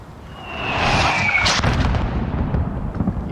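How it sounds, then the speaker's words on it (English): Mortar fire in the Freedom Fighters video game, heard as a loud sustained barrage with a booming burst and rumbling impacts, alone with no talk. "There's still a mortar out there."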